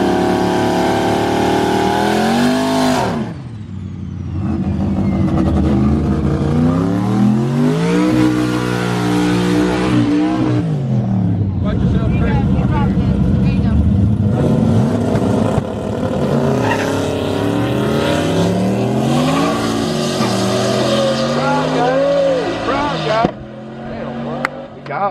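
A 1200HP manual turbo Corvette drag races a turbo Mustang, engines roaring loudly and continuously with rising revs through gear changes and brief drops between shifts.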